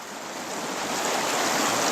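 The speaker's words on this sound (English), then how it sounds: "Stick your hand inside there and swish the water back and forth" Water swished back and forth inside a container to rinse it out, a continuous close sloshing wash that swells slightly louder over two seconds, with no talking.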